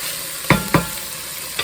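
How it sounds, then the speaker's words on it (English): Onions and sausage fry in a pan with a steady sizzle, broken by two sharp knocks of a utensil close together and a third later on. "once those onions are starting to look a little translucent and our sausage is getting some color on it"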